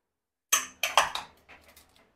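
A pressure cooker of native-style sambar with jackfruit is opened, giving a few sharp metallic clanks of lid and pot close by, then lighter clinks tapering off, with no talk.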